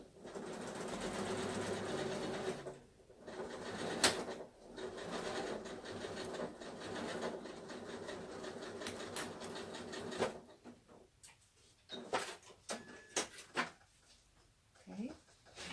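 A sewing machine runs steadily as a tulip is stitched onto a tea towel, a loud close mechanical whir that stops briefly and resumes, giving way to sparse clicks and handling noises near the end.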